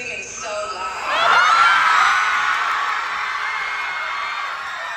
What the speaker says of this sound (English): I'm somewhere where everyone is screaming so loud.